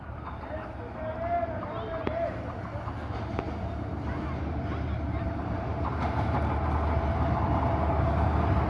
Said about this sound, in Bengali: এই যে ট্রেনটি দ্রুত গতিতে ভৈরব বাজার জংশন থ্রো যাচ্ছে।